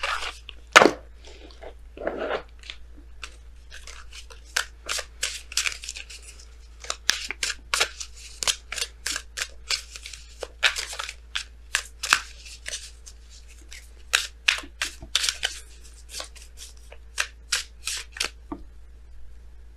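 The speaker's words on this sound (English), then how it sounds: "So we're going to go ahead and pull you guys your Messenger Oracle cards." Oracle cards being shuffled and pulled for a love tarot reading, giving quick papery flicks and riffles in irregular bursts throughout, close and fairly soft, with no talking.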